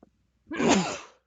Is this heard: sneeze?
yes